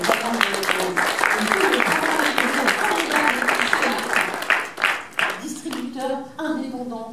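Audience at a film premiere applauding, a dense steady wash of clapping throughout with a voice speaking over it toward the end.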